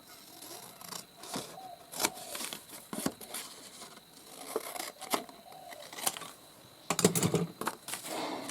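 Scissors cut through a paper bag while the cover of a handmade journal takes shape, giving several sharp separate snips with crisp crinkles and short pauses, close and moderately loud.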